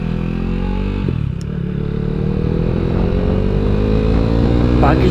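A Kawasaki Ninja 225cc motorcycle pulls away on a road, its engine a loud, close, continuous drone whose pitch climbs gradually as it rides off.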